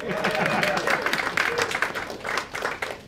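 Audience at an animation event applauds, a moderately loud burst of many hands clapping with a few cheers and voices mixed in, easing off near the end.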